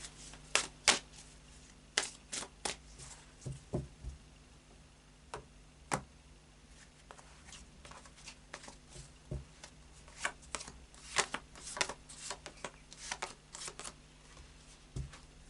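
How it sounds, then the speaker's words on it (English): A deck of tarot cards is shuffled by hand, close and quiet, with irregular bursts of crisp riffling and tapping spread across the whole stretch. "A little bit more of a shuffle."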